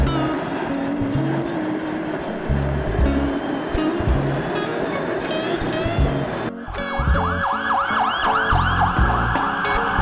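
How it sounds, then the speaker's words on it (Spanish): Busy downtown Toronto street ambience: traffic rumble and passing cars fill the background while an emergency vehicle siren wails, rising and falling in repeated sweeps that grow louder partway through. "El ruido del centro de Toronto."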